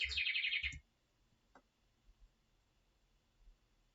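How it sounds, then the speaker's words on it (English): A clock sounds a bird chirp: a quick run of bright, rapid tweets lasting under a second, then near silence with a few faint soft knocks, heard close in a quiet indoor room. "Weird clock sounds."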